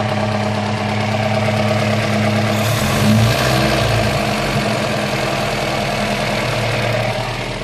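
A 1967 Volvo Amazon 122S engine idles steadily and loudly at close range, a rough, tractor-like rumble with a low, uneven knock that holds for the whole stretch.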